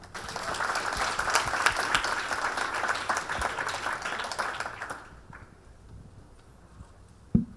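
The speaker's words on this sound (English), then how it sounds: "please give me a round of applause for our two guests" Audience applause for two guests at an alumni speaker event, a steady wash of many hands clapping for about five seconds before dying away into a quiet room, with a single bump near the end.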